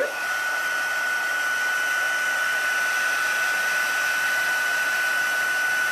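A hair dryer drying paint blows steadily and fairly close, a constant whooshing hum with a thin high whine running through it, no voices.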